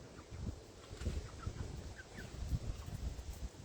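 Backyard flock of chickens, twelve-week-old chicks mixed with adult hens, heard outdoors as a steady texture of soft clucks and brief chirps over light wind, moderately faint and continuous, with no talking.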